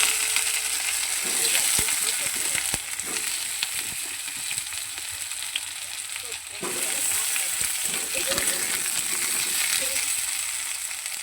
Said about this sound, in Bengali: মাংসর আলুটা ভাজতে বসিয়ে দেবো।